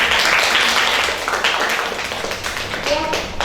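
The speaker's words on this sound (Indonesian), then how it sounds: "Kita tepuk tangan dulu buat." A classroom of students claps together during an accounting lesson, a close, fairly loud patter of hands that gradually thins out, with some voices mixed in beneath it.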